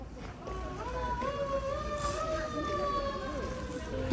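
An ambulance siren wails along a street in Seoul, its rising and falling tone fairly close and steady over traffic noise, with a voice heard faintly in the background.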